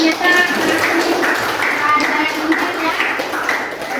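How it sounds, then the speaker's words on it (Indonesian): Students in a school classroom clap their hands together on the teacher's cue, a near, loud patter of claps with voices and chatter mixed in. "Oke, tepuk tangan dong"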